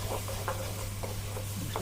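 Washed dried fish (shutki) is tipped into frying masala in a pan, giving soft scraping stirs and a low sizzle, with a few spoon strokes repeating at a steady pace over a constant hum.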